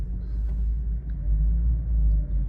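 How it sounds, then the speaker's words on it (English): Old cars, an Aston Martin and a Porsche among them, rolling up to a car show in Germany, giving a low, steady engine rumble close by with slight swells and no talking. "But oh, the cars are here. Look at that, they're rolling up."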